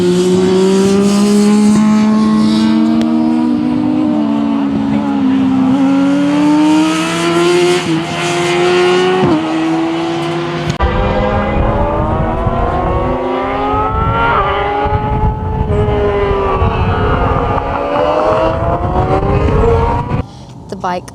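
Racing motorcycles on a race track scream past with high revving engines that rise and fall in pitch, loud and sustained, as a person talks over them.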